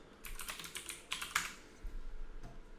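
Fingers typing a search query on a computer keyboard, a quick run of close, crisp key clicks in uneven bursts with brief pauses, then a few final taps, no voices.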